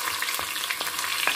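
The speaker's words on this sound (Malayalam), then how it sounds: "ഈ കടുക് പൊട്ടുമ്പോഴത്തേക്ക് നമുക്ക് കുറച്ച് ഉലുവ കൂടെ ഇട്ട് കൊടുക്കാം" Mustard seeds crackle and splutter in hot oil for a Kerala-style fish curry, a dense steady sizzle broken by several sharper pops, close and alone with no voices.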